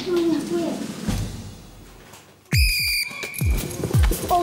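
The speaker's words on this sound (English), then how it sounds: "Wait for my whistle" A quiz show host blows a whistle on a children's quiz show: one loud, piercing blast of about half a second that comes abruptly after quieter talk, followed by excited voices and movement.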